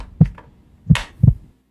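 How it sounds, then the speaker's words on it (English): Three deep, thumping heartbeat pulses from the Hitman video game, loud and distorted with audible clipping, spaced unevenly with a sharper crackly burst on the second beat. "I like how the heartbeats are causing it to clip."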